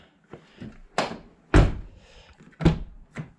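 The door of a 1991 Toyota Celica GT is worked repeatedly, its handle and latch giving a series of sharp thunks and clicks separated by short pauses, close and fairly loud.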